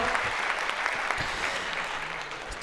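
Steady, dense applause from a concert audience at a big May holiday show in Bishkek, filling the whole stretch at an even, loud level with no break.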